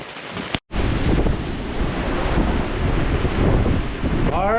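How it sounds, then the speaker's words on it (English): Strong, gusty wind buffets a boat at anchor in the Bahamas, with waves and surf washing steadily around the hull, loud and continuous after a brief dropout near the start. "We got some wind, super gusty."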